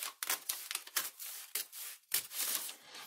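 Scissors cut through packaging paper for a handmade eco-friendly journal, giving a quick series of crisp snipping and rustling strokes, close and moderately loud, with no talking.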